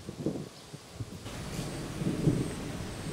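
Low rolling thunder from an approaching thunderstorm at a remote place, a soft early rumble followed by a louder, broader swell of distant thunder with wind noise, no voices.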